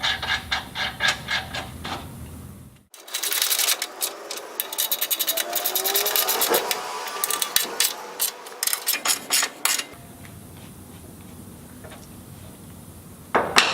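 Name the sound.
ratchet and 13mm socket tightening sump guard bolts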